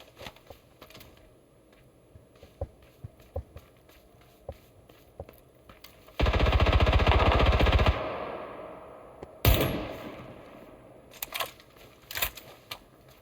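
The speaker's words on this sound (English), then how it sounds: "Somebody shooting with a suppressed weapon over this way." Suppressed gunshots heard outdoors in a snowy area, a dense two-second burst of muffled shots followed by a single sharp report with a decaying tail, among faint footstep-like clicks.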